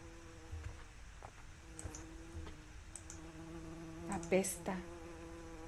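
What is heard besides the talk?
flies buzzing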